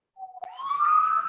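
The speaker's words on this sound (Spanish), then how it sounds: "Hay una ambulancia ahí" Ambulance siren picked up through a participant's open microphone during an online Spanish-language seminar, a brief rising wail that swells from faint to moderately loud over about a second, with no speech over it.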